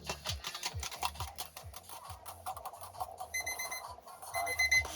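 A timer alarm goes off in a rapid, repeating electronic beeping pattern, faint and steady, with a brighter ringing tone coming in toward the end.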